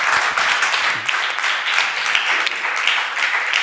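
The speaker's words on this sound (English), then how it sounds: "Give him a round of applause." Sustained audience applause fills the room at a steady, dense level, many hands clapping together without a break, with faint voices mixed underneath.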